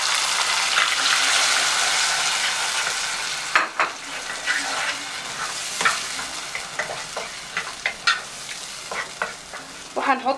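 Tomatoes fry in hot oil with garlic in a pan for koshari, giving a steady sizzle that settles into sharper crackles and spatters, along with a few clinks of a spoon stirring.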